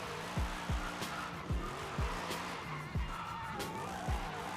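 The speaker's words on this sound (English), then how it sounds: "Like me and Jordan be drifting together." A BMW M3 drift car in Forza Horizon 5 squeals its tires over and over, sharp skids arriving in a rough rhythm over a steady engine drone.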